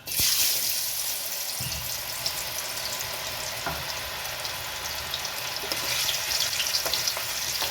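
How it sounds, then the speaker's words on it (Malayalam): Small batches of mango pieces frying in hot oil in a cheenachatti, a loud sustained crackling sizzle that surges at the start and stays dense and even throughout, with faint utensil taps. "എണ്ണയിലോട്ട് കുറേശ്ശെ മാങ്ങയിട്ട് വറുത്തെടുക്കാം"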